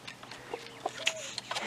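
Delaware chickens in a backyard run give soft, scattered clucks and brief chirps, faint and close with short gaps between calls.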